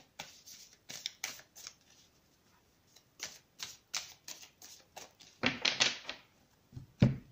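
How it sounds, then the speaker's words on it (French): Oracle cards are shuffled and drawn from a deck, giving a series of crisp, close slaps and riffles in irregular bursts, with brief pauses between them and a louder snap at the end. "je vais tirer une carte de cet oracle"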